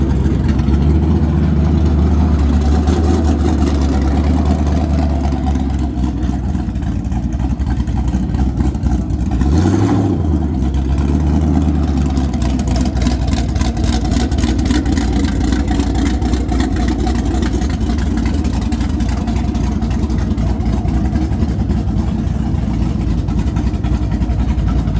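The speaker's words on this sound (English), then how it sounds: "Here's an old Toyota for you." An old Toyota car engine runs steadily, loud and close, with a brief rev swelling near the middle before settling back to a rough idle.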